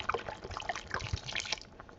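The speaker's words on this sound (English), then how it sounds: "I'm adding around 250 milliliters of water," About 250 millilitres of water pours in a splashy, uneven stream into a pot of cranberry sauce, with small trickles and drips over about two seconds.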